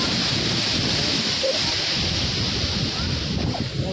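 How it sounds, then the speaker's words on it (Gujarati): Water pours out of Willingdon Dam in Junagadh during rain, making a loud, continuous rushing roar close by with no pauses. "હેઠે જો આ ડેમમાંથી પાણી જાય છે"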